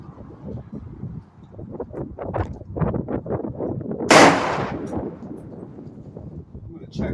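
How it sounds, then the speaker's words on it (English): A single sharp rifle shot cracks out at an outdoor range with a 100-yard target, ringing briefly in the middle of ongoing conversation. "I think I was shooting all the way off the target to the right"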